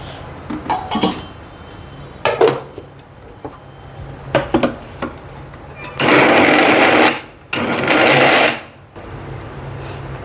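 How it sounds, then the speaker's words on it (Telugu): A kitchen mixer grinder whirs through gongura leaves for Guntur-style pulihora gongura, running in two loud sustained bursts after a series of clinks and knocks from handling the jar. "ఇదిగోండి ఒక్క రౌండ్ మిక్సీ చేశాను"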